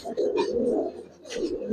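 Giribaz pigeons near a nest with an egg give a low, rolling coo that runs across most of the moment, close by, with faint human sounds mixed in.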